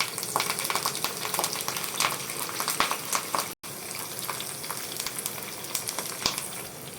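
Cumin seeds, curry leaves and dry red chillies crackle and sizzle in hot oil for a tempering, a dense continuous spitting hiss with a brief cut partway through.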